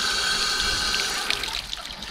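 Water running steadily from a push-button tap at a beach on Sardinia, a continuous splashing hiss that thins and breaks into drips and gurgles toward the end.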